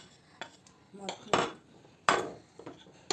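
Scraping clinks of a spoon stirring starch into apricots in a pot, several irregular strokes with sharp metallic knocks, close by and without talk.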